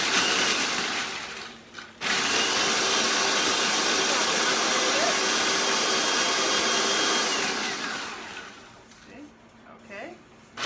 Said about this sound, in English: So I'm going to start with the Oreos and just them in the food processor here